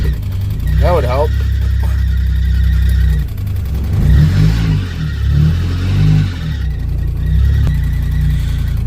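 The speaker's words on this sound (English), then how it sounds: "I was actually in third, trying to do a burnout in third gear" Car engine revving hard in third gear during an attempted burnout with a worn, slipping clutch, a loud steady drone rising and surging in pitch around the middle, with brief voice sounds early on.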